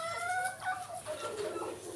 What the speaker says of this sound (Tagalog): Ayan po yung nangingitlog yung ating mga manok.